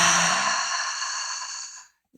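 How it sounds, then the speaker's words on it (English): A person takes a deep, audible breath and lets it out in a long sighing exhale close to the mic that fades away over about two seconds during a calm reiki-style relaxation session. "Take a deep breath in and a deep breath out."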